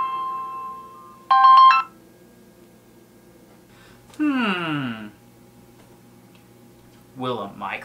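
A mobile phone rings after sitting in a cheap foil Faraday cage: a short bright tonal burst, then two warbling, sweeping ringtone phrases with gaps between them, near and clear against a quiet background.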